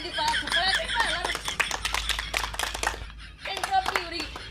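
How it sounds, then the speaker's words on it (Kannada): A group of children clap together in a dance class, a dense burst of quick, uneven claps with a short pause near the end, mixed with chatter and a few giggles. "ಚಪ್ಪಾಳೆ ಹಾಕ್ರಪ್ಪ ಎಲ್ಲರೂ."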